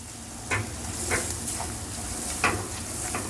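Leftover dough mixture seasoned with Maggi masala is stirred in a pan, with a soft scraping and light sizzle broken by a few sharp clicks of the spoon against the metal.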